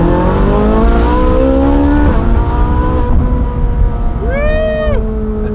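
A Ferrari 458 with a DIY exhaust modification roars loudly up close, its pitch dropping in stepped downshifts, followed by a rising and falling whooping cheer from a voice.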